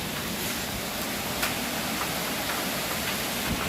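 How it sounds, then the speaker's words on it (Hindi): Heavy thunderstorm rain with large fat drops pouring steadily, a dense, even hiss of downpour filling the scene with occasional sharper drop impacts, no voices. "आवाज़ तो आप लोगों को आ ही रही होगी बारिश की।"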